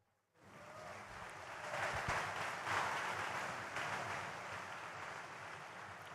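An audience claps and cheers at the Bitcoin 2024 conference, applause rising sharply and holding as a broad, sustained wash from a large crowd.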